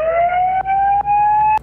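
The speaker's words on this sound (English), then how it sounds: "And a siren." A loud electronic siren tone sweeping slowly upward, sounding alone with brief dips as it cuts and restarts.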